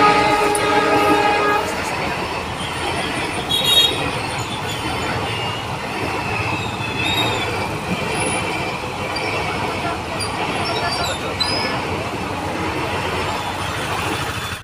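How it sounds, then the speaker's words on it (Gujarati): A Somnath to Jabalpur train passes a closed railway crossing as a steady loud rumble of rolling wagons, with short high horn or whistle tones early on and again later. "સોમનાથથી જબલપુર ટ્રેન આવવાની તૈયારીમાં છે, કારણ કે ફાટક દેવાઈ ગઈ છે"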